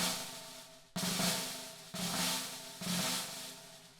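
Snare drum press rolls blended smoothly from hand to hand: sustained soft buzzing strokes with about four gentle accents where each new press takes over, quiet and close, without talk.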